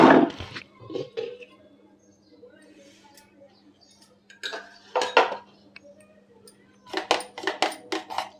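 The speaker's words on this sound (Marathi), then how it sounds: "आणि हे दूध जे आपण घट्ट करून घेतलेलं ते याच्यात मिक्स करूया। काही सेकंदच आपण फिरवून घेऊया।" A spoon clinks and scrapes against a metal pot while a thickened milk mixture is stirred into it, in short bursts of clatter separated by quieter gaps.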